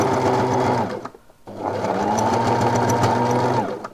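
Sewing machine stitching along a skirt pocket, running in two steady bursts of fast, even needle chatter with a brief pause between them, close and loud with no voices.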